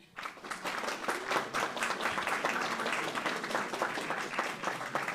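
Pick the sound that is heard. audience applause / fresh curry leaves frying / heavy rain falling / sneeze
audience applause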